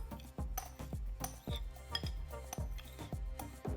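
Pineapple pieces tipped into a bowl for homemade pineapple salsa, heard as a steady run of distinct clinks and knocks from a spoon against a dish, close and fairly loud, with no talking.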